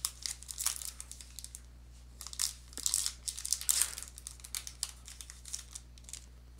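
A wrapper on a 2022 Upper Deck MVP NHL card pack from a blaster box is torn and crinkled open in quiet, close bursts of crackling plastic with brief pauses between.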